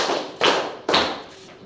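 A class claps the "tepuk fokus" rhythm, giving two sharp, close group claps with short thuds roughly half a second apart and no speech between them.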